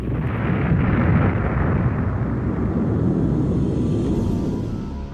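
A bomb blast sound effect rolls out as a deep, loud, sustained roar that holds steady for several seconds before easing slightly, with no voices over it.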